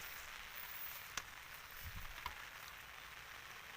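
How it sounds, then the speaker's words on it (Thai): Steady rain falling outdoors during a catfishing trip, an even wash of hiss with a couple of sharp drop-like taps, fairly faint and with no talking. "ฝนมันตก"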